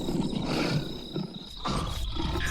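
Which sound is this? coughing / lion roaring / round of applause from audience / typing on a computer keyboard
lion roaring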